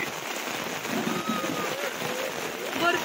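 Heavy rain falls outdoors during a picnic, a soft, dense hiss of drops that swells slightly toward the end.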